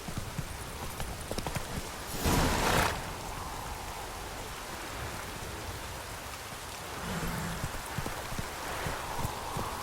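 Hooves of Roach, the horse in The Witcher 3, clip-clop at a steady gallop over rain-soaked ground, with rain hissing throughout and a louder splashing burst partway through.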